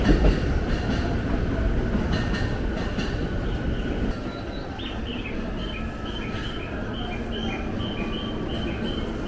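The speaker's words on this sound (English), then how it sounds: "2 trains arrive and depart simultaneously." Two trains arrive and depart at the same time at Shinjuku Station in Tokyo, a steady loud rumble of wheels and carriages with faint chimes and announcement tones over the platform noise.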